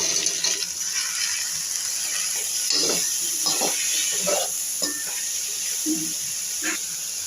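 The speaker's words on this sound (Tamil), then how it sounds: "கடுகு, சீரகம், உளுத்தம்பருப்பு போட்டு வதக்கி இந்த வாழைப்பூ வதக்கிட்டுருக்கேன்" Banana flower sautés in a pan with mustard seeds, cumin and urad dal, a soft sizzle and hiss under repeated scraping and knocking of the spatula against the pan.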